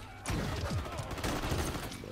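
Video game gunfire rattles in a rapid burst against a metal pole, a sharp volley starting abruptly and continuing with clanking hits and echoing shots, fairly loud with no talking.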